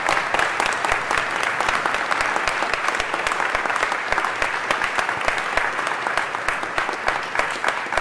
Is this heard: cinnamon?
no